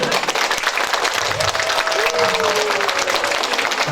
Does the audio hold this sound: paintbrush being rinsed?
no